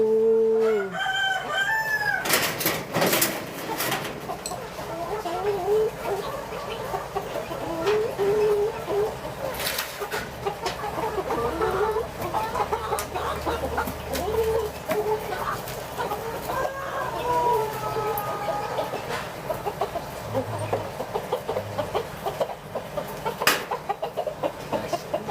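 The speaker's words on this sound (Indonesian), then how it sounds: "Ayam super ini ya." Super chickens on a home farm cluck and crow nearby, with a rooster's drawn-out cock-a-doodle-doo near the start and scattered clucks and calls continuing over a busy yard background.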